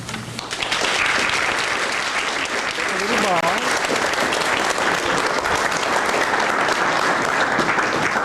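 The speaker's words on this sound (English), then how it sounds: "It's pretty hard not to applaud after one, isn't it?" A crowd at a poetry night in Michigamme bursts into sustained, dense applause after a poem, the clapping loud and steady, with a brief faint voice partway through.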